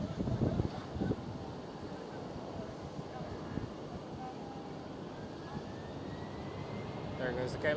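KLM City Hopper aircraft operated by German Airways departing Amsterdam Schiphol, a steady distant jet engine roar under wind noise with some talk in the background, swelling slightly toward the end.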